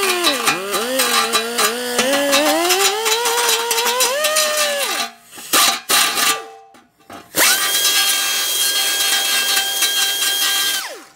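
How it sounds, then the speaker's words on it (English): Angle die grinder deburring a transmission pan, a loud whining power-tool sound that rises and falls in pitch with load for several seconds, cuts out briefly with a few short bursts, then runs again at a steady high whine. "I flip the pan over, and I'll use a angle die grinder"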